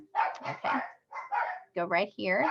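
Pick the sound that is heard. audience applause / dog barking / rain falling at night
dog barking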